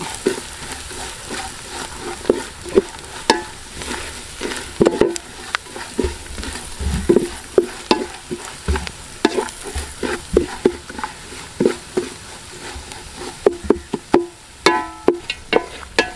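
Masala spice powders frying in a pan for clam curry, a soft sizzle under repeated sharp clicks and scrapes of a spoon stirring against the pan, close and fairly quiet with no talk.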